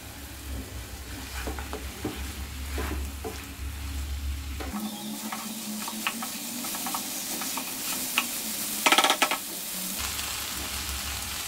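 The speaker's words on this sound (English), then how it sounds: "we'll fry for another 5 minutes. Coat the meat nicely with the spices." Duck meat frying with spices in a pan, a steady sizzle under repeated stirring and scraping strokes, with a brief louder clatter near the end and no speech.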